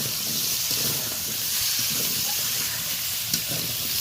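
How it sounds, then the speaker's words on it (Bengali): Kohlrabi and potato pieces sizzle and hiss steadily in a hot pan while a utensil scrapes and stirs in soft, irregular strokes, close and continuous. "কয়েক সেকেন্ড ধরে আমি ভালোভাবে নাড়াচাড়া করে নিলাম"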